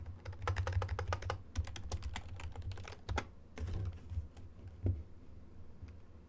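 Rapid bursts of typing on a computer keyboard, close and fairly loud, with irregular clusters of keystrokes and brief pauses over a steady low hum, no voices.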